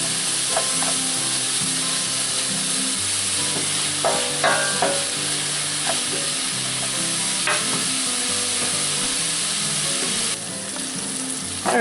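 Vegetables sauteing in a pot for potato kielbasa soup, a steady close sizzle broken by scraping stirs and a few sharp utensil clinks against the pot, with no voices.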